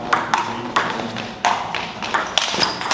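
A table tennis ball is served and hit during a match, sharp crisp pings of ball on paddle and table in quick irregular succession, close and clear, over faint room noise.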